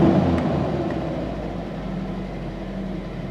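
A 2003 Nissan Frontier with a 2.4-liter four-cylinder idles steadily after a fuel pump replacement, a low, even rumble that stays close and constant throughout.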